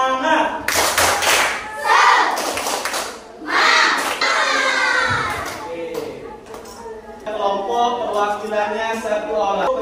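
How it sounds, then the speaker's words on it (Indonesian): Children in a coding class do a patterned spirit clap together in a quick rhythm, loud bursts of hand claps alternating with children's voices and chatter. "coba kita tepuk semangat"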